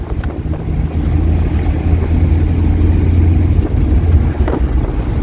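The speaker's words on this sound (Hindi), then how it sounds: "इसी अर्टिगा गाड़ी में है, बिना नंबर की गाड़ी जो जा रही है" A Maruti Ertiga without a number plate drives in a convoy, giving a loud, steady low road rumble with heavy wind buffeting across the microphone throughout.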